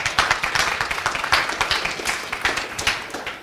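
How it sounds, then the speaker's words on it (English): A small audience claps in a scattered, uneven burst, with individual hand claps clearly audible and moderately loud throughout. "Give me a round of applause."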